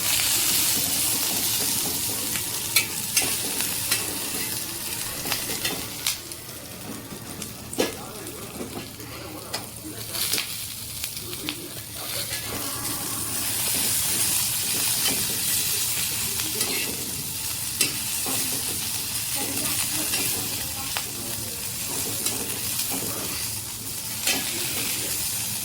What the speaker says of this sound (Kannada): ಎಣ್ಣೆ ಹಚ್ಚಿ ಚೆಂದಾಗಿ ಮೆತ್ತಗಾಗತ್ತನ ಹುರಿಬೇಕು